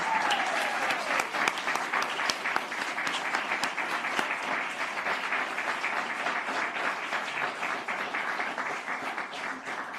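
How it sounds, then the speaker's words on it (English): A gala audience at the Windsor Shad Derby applauds a group of women on stage, with dense, sustained clapping that stays even and fairly distant for the full stretch. "I think we need another round of applause for these amazing ladies up here"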